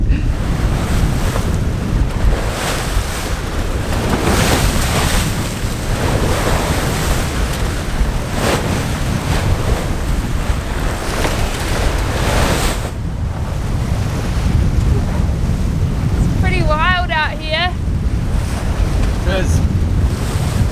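Strong northeast wind roars across the microphone while a big sea surges and crashes around a sailing boat off Spain's Basque coast, a steady loud buffeting with a brief creak or squeal near the end.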